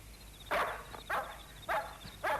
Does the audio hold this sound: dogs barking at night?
yes